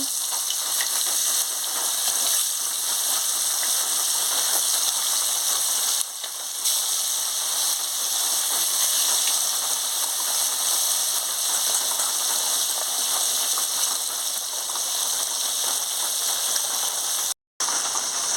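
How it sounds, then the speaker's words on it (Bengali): A continuous, even hiss of fish frying in hot oil, steady throughout with one brief dropout near the end. "তেল গরম হয়ে গেছে এবারে আমি মাছটা দিয়ে দিচ্ছি"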